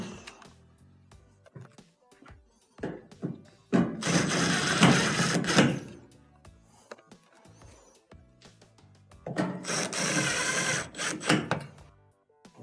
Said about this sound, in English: Now we can reinstall the 3 screws on the front.